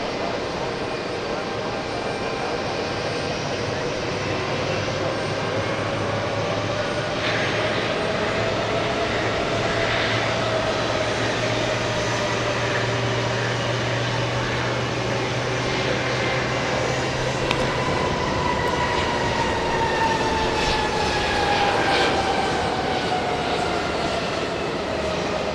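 A JetBlue jet taxis at JFK airport, its steady engine roar and whine holding throughout with a slowly shifting tone, while a low hum runs underneath for the first part and voices talk over it.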